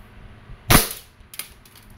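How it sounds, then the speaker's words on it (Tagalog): Two sharp shots from a WE airsoft Glock 17 Gen 5 gas pistol, a loud crack near the middle followed by a softer second pop about half a second later, with quiet room tone between. "So, testing Glock 17 Gen 5 Secret. Semi and full automatic ito."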